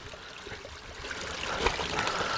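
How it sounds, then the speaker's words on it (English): A clear creek flows steadily on rural property, giving a close, continuous trickle and babble of running water. "Man, check out this creek though. It's just so clear."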